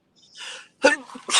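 A single person sneezes with a sharp burst after a breathy inhale, close and fairly loud, followed by a second short breathy outburst.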